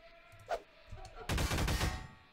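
Rapid bursts of gunfire in the video game Garry's Mod, on a scary custom map, a single shot followed by a loud, dense volley of rattling shots, close and sharp.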